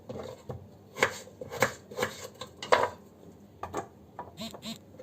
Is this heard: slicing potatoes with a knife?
yes